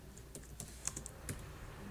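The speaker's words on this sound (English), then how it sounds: "you have to double click this one and you can start typing" Keys clatter on a computer keyboard in a quick, uneven burst of close, crisp taps against a quiet room, with no voices.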